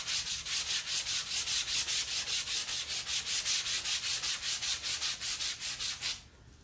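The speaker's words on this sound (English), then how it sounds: "I want to achieve a softer texture, so I'm going to sand it a bit" Steady back-and-forth rubbing of sandpaper on painted upholstery fabric, about five strokes per second in a regular rhythm, close up, stopping abruptly near the end.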